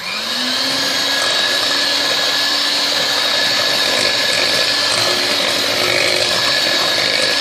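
An electric mixer whirs continuously at high speed, beating tiramisu cream with liquid vanilla, a loud steady motor whine with no talk.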